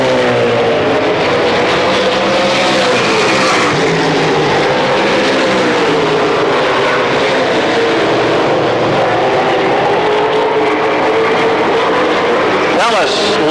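Late model stock cars racing at a speedway in a 50-lap feature, a continuous loud roar of engines with rising and falling pitch as the cars circle, a commentator talking over it.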